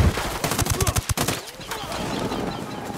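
Rapid bursts of automatic gunfire in the Ghost Recon Wildlands video game, a quick run of loud shots over about a second, followed by a lower rumbling game ambience.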